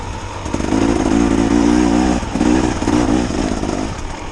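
A 2024 KTM 300 XCW two-stroke dirt bike engine revving hard and pulling on a trail ride, a loud buzzing drone rising in waves with brief dips between pulls, close to the rider, with no talk.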